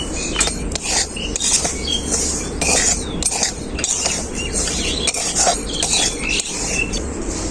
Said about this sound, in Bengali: চিনিটাকে আমি হালকা নাড়াচাড়া করে নিয়েছি সুজির সাথে